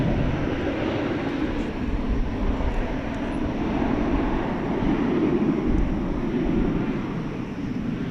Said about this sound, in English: This American Airlines flight is going to Las Vegas. It's an Airbus A321 flight 2872.